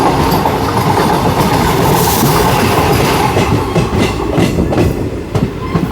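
Narsapur–Bengaluru weekly express train on its first run near Akividu, with loud, steady rail rumble and rhythmic clickety-clack of wheels over joints, heard from on board.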